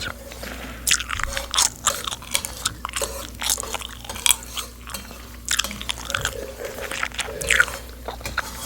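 Gum chewed right up against the microphone in a relaxing cooking setting: steady, rhythmic wet smacks and crisp crunches, close and intimate, with no talking.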